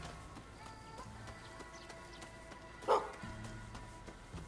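A big dog in the samurai action game Rise of the Ronin barks once, a short loud bark near the middle, over steady game ambience and faint background hum.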